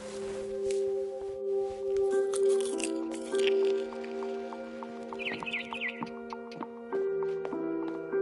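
Wet, squishy chewing and eating noises from the video game What Remains of Edith Finch come in scattered bursts over sustained tonal game music, moderately loud and without speech.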